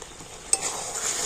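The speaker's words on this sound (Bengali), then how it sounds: "ভিনেগার দিয়ে আবার একটু নাড়াচাড়া করে নিচ্ছি" Raw mango pickle being stirred just after vinegar goes in, a soft continuous scraping with one brief knock near the start, faint and close with no talking.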